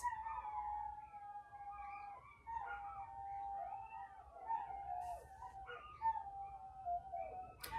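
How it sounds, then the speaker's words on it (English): Dogs belonging to the neighbours howl over and over in long, wavering, siren-like wails that rise and fall without a break, heard from a moderate distance with no talking. "Do you guys hear that? Those are the neighbors' dogs."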